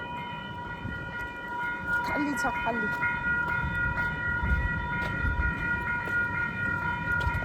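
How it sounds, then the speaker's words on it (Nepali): A train rumbles past steadily, with clattering and a faint whistle tone, while a voice speaks briefly over the noise. "अब खाली ट्रेन छ"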